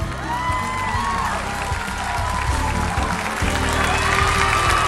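A large crowd at an outdoor evening concert in Piazza Bra, Verona, claps and cheers in a broad, continuous wash of applause, with music tones and a voice faintly audible underneath.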